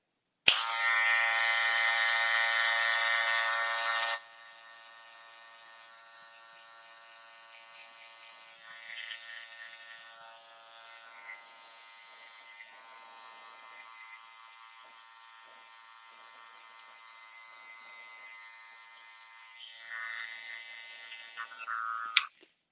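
Electric hair clipper running during a modern textured men's haircut, set to a one-guard length for edging the perimeter: a loud steady buzz at the start, then a quieter continuous hum with varying texture as it works along the hairline.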